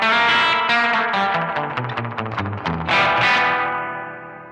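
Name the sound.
Danelectro Spring King Junior spring reverb pedal, tone turned down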